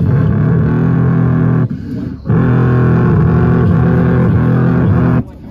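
A Toyota Supra MK4 engine revs hard at a rooftop car meet in Beverly Hills, loud sustained blasts broken by a short dip, then a second long rev that cuts off abruptly.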